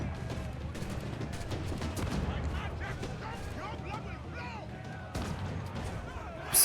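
Heavy booming ship cannon blasts and explosive gunfire in Assassin's Creed IV: Black Flag, dense and continuous, with a voice speaking over the battle noise.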